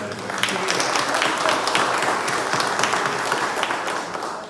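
Church congregation applauding, a continuous, fairly close patter of many hands clapping that fades slightly at the end.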